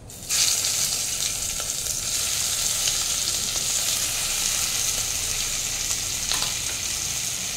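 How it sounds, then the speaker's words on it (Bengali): Shrimp fry gently in a pan for a Bengali prawn dish, a bright steady sizzle that starts abruptly and holds evenly, with a couple of faint stirring clicks and no voices. "খুব হালকা হাতে এটা ফ্রাই করে নেবো"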